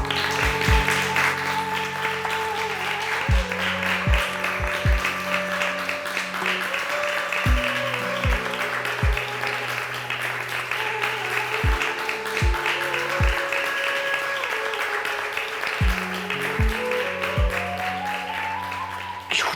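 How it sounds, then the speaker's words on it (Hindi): An audience claps in a dense, sustained wash of applause over a musical backdrop with bass notes and tones, continuing steadily throughout. "लोग तालियां बजा रहे हैं"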